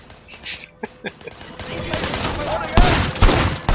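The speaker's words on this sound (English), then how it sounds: "You can blind fire too, but it's kind of pointless with a pistol." Pistol gunfire from the open-world action game Sleeping Dogs: a few sharp shots in the first half, then denser bursts and louder bangs near the end over busy game sound, with brief voices in the mix.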